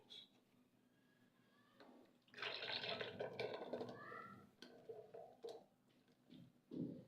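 Water poured from a jug into frothy yogurt lassi, a gurgling splashing pour that swells mid-way and runs for several seconds amid faint kitchen clatter, no speech.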